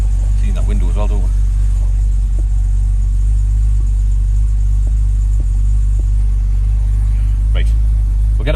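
A barn-find Jaguar XJ6 with engine trouble idles loud and close while warming up on choke, a steady low rumble throughout with brief voices early and late.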